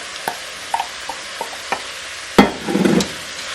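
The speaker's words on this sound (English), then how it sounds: "So I'm gonna fry this all." Spinach and meat sizzle in a pan while a utensil clinks and scrapes the metal several times, ending in a louder stir and a burst of frying.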